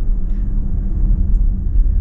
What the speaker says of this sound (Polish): Śmieszny dźwięk wydaje przyspieszenie